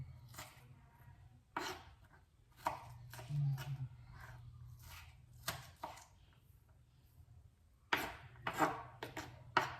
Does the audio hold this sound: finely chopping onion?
yes